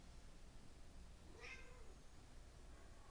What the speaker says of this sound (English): my cat is begging me to eat, and it's not food time yet